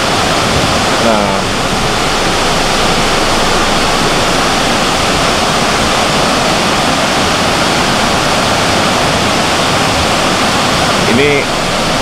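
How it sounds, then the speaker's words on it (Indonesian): A waterfall at Tanah Merah, Samarinda roars loud and steady throughout, a broad continuous rush of falling water, with a brief voice or call faintly audible near the start and end. "Oh ini kan bisa di air terjun ini."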